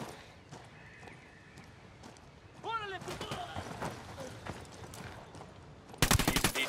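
Gunfire in the Ghost Recon Wildlands video game, sharp bursts of shots crackling in rapid succession near the end after quieter game sounds and horse whinnies, with voices talking over it.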